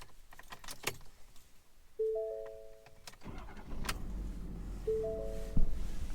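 Keys jingle, then a 2019 Ford Super Duty pickup with 86,000 km cranks and fires up into a steady low idle, close by with no talking.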